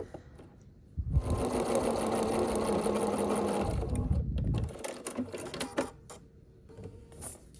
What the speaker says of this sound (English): Then we're gonna sew on the line like A1 and A2's here, A3's here. We're sewing on this line down the middle of those.